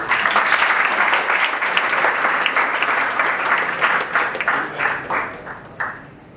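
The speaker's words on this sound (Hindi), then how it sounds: "उनके लिए खास ताली बजाओ" Audience applause breaks out at a business talk for aspiring entrepreneurs, a dense, steady wash of many hands clapping that thins toward the end with a few scattered final claps.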